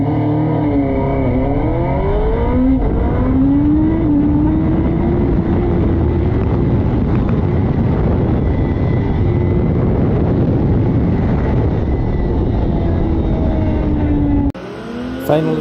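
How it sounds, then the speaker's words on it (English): A Suzuki GSX-S1000 motorcycle engine at a drag strip, loud and close, revving with rising and falling pitch sweeps and then holding a sustained high-RPM roar before cutting off abruptly near the end. "how the bike all of a sudden just starts ramping up on RPM, but it's really not making a lot of forward"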